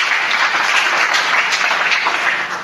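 Church congregation applauding together, a dense, steady wash of many hands clapping throughout, loud and close with no pauses.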